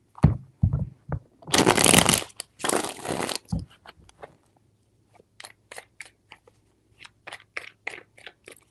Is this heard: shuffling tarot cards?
yes